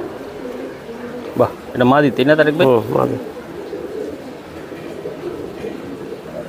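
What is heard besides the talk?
pigeons cooing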